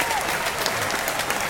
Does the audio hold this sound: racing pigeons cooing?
no